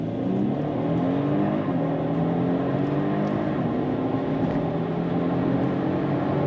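Several sports cars, among them a 2024 BMW M440i Gran Coupe, Kia Stinger GT, Audi S4 and Mercedes-Benz C43 AMG, launching together in a drag race, engines roaring loud and steady under rising tones with no talk.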